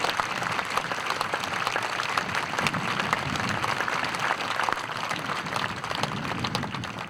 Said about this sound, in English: Let's give the Torrance High School Association student body a round of applause.